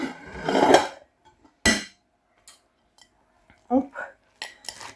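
A plate is set down into a kitchen pot as a press weight, giving one sharp ceramic clink followed by a few faint taps and knocks. Someone talks before and after it.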